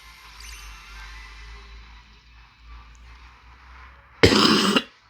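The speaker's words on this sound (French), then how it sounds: "Première fois que je tousse dans cette vidéo" A single harsh, close cough bursts out near the end, loud and abrupt, following a stretch of quiet background game sound.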